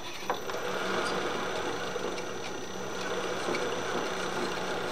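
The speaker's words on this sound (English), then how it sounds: "Now what we want to do is countersink it before we thread it." A drill countersinks a freshly drilled hole in a splitter under repair, running slow. It gives a steady, continuous whirring grind at moderate level for the whole stretch, with no speech.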